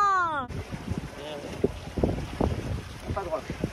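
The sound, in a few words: wind blowing while rigging a sailboat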